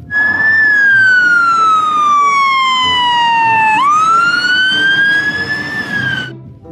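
A toy fire engine's loud wailing siren sweeps slowly down in pitch, jumps back up and rises again, with a low engine rumble underneath throughout.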